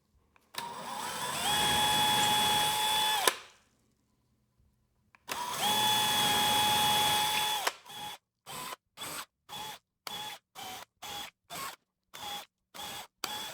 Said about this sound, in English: now the next step is to just simply drill the holes as indicated